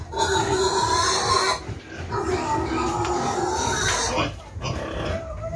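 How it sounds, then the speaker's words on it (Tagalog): Young pigs about seven weeks old grunt and oink on a farm at feeding time, a steady close chorus of snorts and squeals that carries through the whole stretch with some shuffling underneath. "Ito yung ating mga baboy"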